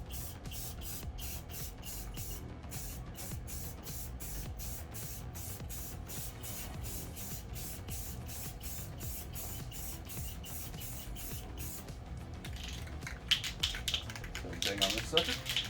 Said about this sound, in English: Test spray.